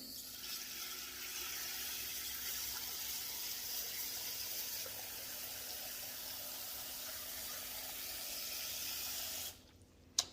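Water runs steadily into a 12 lb rock tumbler barrel, a continuous hissing pour that holds for about nine seconds, then stops abruptly, followed by a short clunk.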